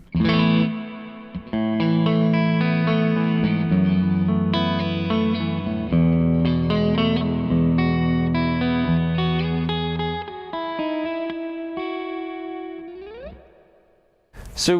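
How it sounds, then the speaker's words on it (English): Electric guitar run through a Zander Circuitry Exosphere reverb pedal set to a dark, damped tone, sustained chords swelling into a warm, muffled wash that trails off, loud and close with no voice. "when you darken up a reverb, it sits really nicely behind what you're playing"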